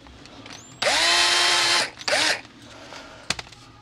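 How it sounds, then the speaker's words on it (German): A small electric drill with a 3 mm bit boring a hole in a motorcycle windshield whirs loudly for about a second, stops, then gives a shorter second burst, followed by a few faint clicks. "Einfach handelsüblicher kleiner Bohrer."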